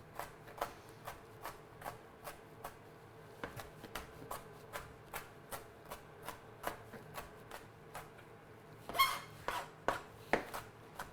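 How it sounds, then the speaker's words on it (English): A big kitchen knife finely chopping ingredients for tomato sauce on a board, with steady, evenly spaced chops close by, quickening into a brief flurry of cuts near the end, with no talking. "I would get the big knife if you've got one and just chop, chop, chop, chop like that"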